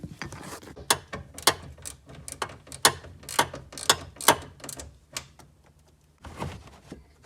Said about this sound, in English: So now you just need to put the bolts back on.